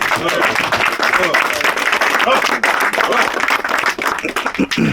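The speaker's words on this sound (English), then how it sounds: "ladies and gentlemen, give him a round of applause" A crowd applauds a newly introduced rap artist, continuous loud clapping with cheering and voices layered over it for the full length.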